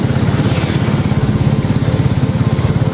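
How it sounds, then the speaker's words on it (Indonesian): A small Yamaha Mio motor scooter's engine putters close by at a steady idle through its stock exhaust, giving a rapid, even pulsing beat. "Jadi suaranya ini masih orisinil ya, masih kenalpot ori."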